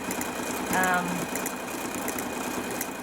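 A sewing machine runs steadily while stitching along earlier stitched lines on a quilt, producing a continuous mechanical hum with a slightly louder, tonal burst near the start.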